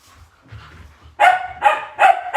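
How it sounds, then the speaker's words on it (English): Poodles bark close by in three or four sharp, loud yaps, following some quieter shuffling and faint sounds. "I'm sorry for the barking, you guys."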